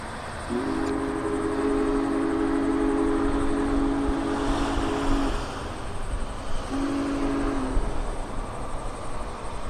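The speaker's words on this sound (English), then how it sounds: "Shortly after 9 a.m., the excursion train finally got underway." Union Pacific Big Boy 4014, a steam locomotive on an excursion tour, sounds a long whistle blast and then a shorter one as it departs, over a steady rumble of the train getting underway.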